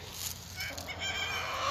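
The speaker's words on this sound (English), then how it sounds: "Oh, nice rooster crow." A rooster crows once in a chicken run, a short, moderately loud call heard at a slight distance among other fowl sounds.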